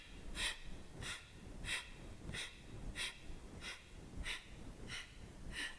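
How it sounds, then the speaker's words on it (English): Forceful rhythmic Kundalini out-breaths pumped by the abdominal muscles, about eight sharp nasal exhalations in steady succession, close and clear with no talking. "you're pumping the air out with the abs. So a really powerful out breath"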